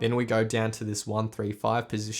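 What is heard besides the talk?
No everyday noises stand out.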